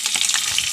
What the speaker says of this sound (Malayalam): ഇഞ്ചി ഇടണം.